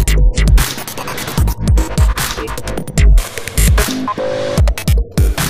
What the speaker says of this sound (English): So I'm just writing a tune at the moment and it sounds like this.